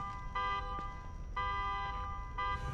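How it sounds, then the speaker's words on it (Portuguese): Repeated vehicle horn honks in The Evil Within 2, three steady tonal blasts sounding at a distance over a low rumbling game ambience. "Tão buzinando a porra do negócio ali"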